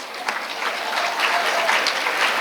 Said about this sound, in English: why don't you give yourselves a round of applause, please